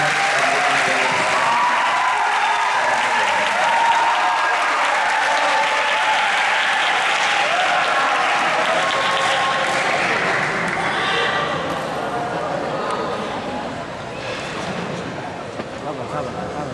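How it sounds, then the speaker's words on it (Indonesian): Audience at a vocational school student council (OSIS) debate breaking into loud, sustained applause, a dense wash of many hands clapping that stays strong and then gradually thins toward the end. "Beri tepuk tangan yang meriah."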